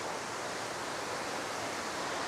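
Northrup Falls pours heavily, a dense, steady roar of rushing water filling the air evenly from start to finish, close and loud with no voices over it.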